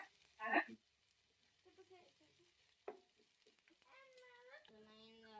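Peeled garlic cloves drop into hot oil with a short burst of crackle, then settle into a faint, quiet sizzle. A few tonal, voice-like sounds appear near the end.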